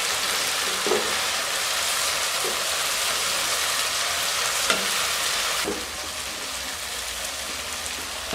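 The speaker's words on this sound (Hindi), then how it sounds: "अब मैं इनकी अच्छे से भुनाई कर लूँगी।" Ginger garlic paste and finely ground green chilies frying and being stirred in a pan, a steady close sizzle with occasional scraping stirs, no talking.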